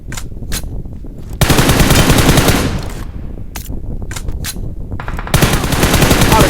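Bursts of automatic gunfire from a mobile shooter game on an iPhone XR during a tournament match, loud sustained rattling volleys broken by short single shots, with no talk over them.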